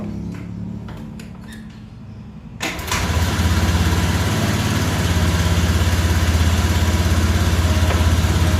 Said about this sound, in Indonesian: Sudah saya kontak. Sekarang mau saya engkol.